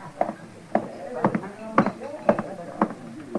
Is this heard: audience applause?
no